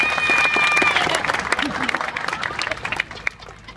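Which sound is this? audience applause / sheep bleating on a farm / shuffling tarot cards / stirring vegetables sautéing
audience applause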